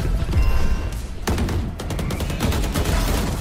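Gunfire in a video game gunfight, rapid overlapping shots forming a loud, continuous barrage with sharp bursts standing out.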